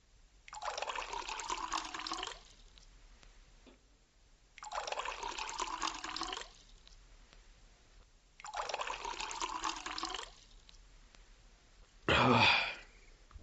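Water poured out to drink, three separate pours of a few seconds each with short pauses between, close and clear, followed by a brief sharp burst.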